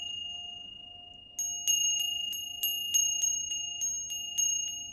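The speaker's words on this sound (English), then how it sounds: "this is the Ganesh Bell, we're just going to ring it" A Ganesh bell rung repeatedly during a meditation, bright metallic strikes in an uneven rhythm of about eight rings, each with a ringing tail that decays, over a faint sustained tone.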